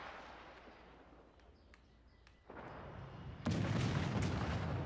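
Warship guns firing in World of Warships, a few faint distant shots at first, then two sudden loud salvos that leave a rumbling roar.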